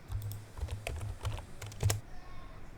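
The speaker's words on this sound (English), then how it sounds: "type exit" Rapid keystrokes on a computer keyboard while typing a command under Windows 11, crisp close clicks in quick irregular bursts that stop abruptly near the end, no voices.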